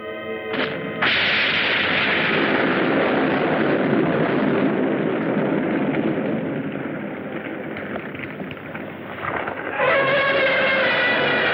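Artillery fire in the 1960s Japanese giant-monster film Gammera the Invincible, a loud continuous roar of guns and blasts that fills the scene for about nine seconds before easing into a different, tonal sound.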